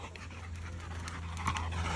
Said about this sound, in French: Je crois que Gizmo il en peut plus, ça y est.